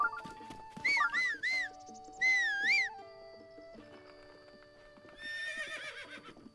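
A horse in The Legend of Zelda: Breath of the Wild gives several loud, wavering whinnies and neighs alongside clip-clopping hooves and game sound effects, with no one speaking.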